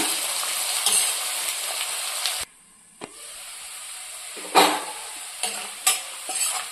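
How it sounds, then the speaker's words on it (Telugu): Onions fry in hot oil with a loud, steady sizzle that briefly drops away, then returns with sharp bursts of stirring and crackle. "ఆనియన్స్, ఇది మంచి కలర్ వచ్చే వరకు ఆయిల్లో ఫ్రై చేద్దాము."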